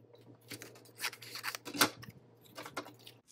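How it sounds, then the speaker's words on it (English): Scissors snip paper die cuts into pieces, a close run of crisp cuts and rustling paper in an irregular rhythm over a faint steady hum. "I'm just going to cut them into pieces."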